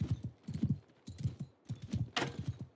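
Horse hooves gallop in Mount & Blade 2 as a rider circles a battlefield, a quick, rhythmic clip-clop of repeated hoofbeats in bursts, close and moderately quiet.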